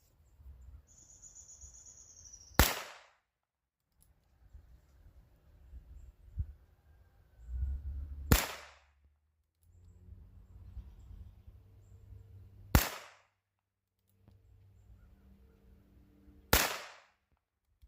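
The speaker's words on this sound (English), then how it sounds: "So with this carbine, how you have to shoot it is like this." Revolver carbine firing four sharp, loud gunshots spaced several seconds apart outdoors, each a sudden crack with a short ringing tail, with quiet rustling and faint background noise between shots.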